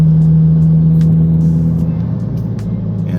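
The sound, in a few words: manual Toyota Corolla Hatchback accelerating after a gear shift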